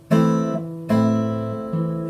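Three separate fingerpicked guitar notes on three strings, one finger each, ring out one after another, each sustaining and fading, played close and clear with no voices.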